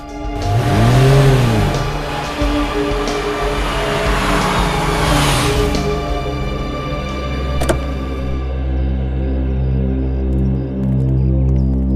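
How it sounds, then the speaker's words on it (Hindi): A car pulls into a narrow residential lane. The engine is loud and close, swelling as it revs on approach and then settling into a steady, even idle as it stops and parks. "गाड़ी लगा लो यहाँ पे।"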